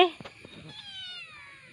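A kitten gives a short, high meow early on, then quieter tonal mewing trails off, with faint background voices.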